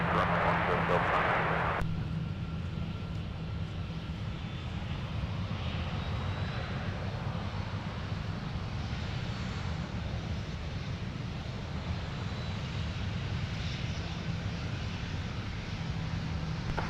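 A jet airliner at Minneapolis–St. Paul airport roars as a steady, broad engine rumble throughout, loud and sustained, with a brief radio-like burst at the very start.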